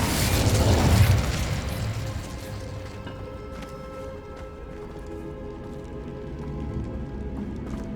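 Incendio fire spell cast in Hogwarts Legacy: a loud, bursting whoosh of flame in the first second, then a crackling, fizzing tail that fades over several seconds.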